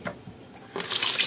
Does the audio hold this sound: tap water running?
yes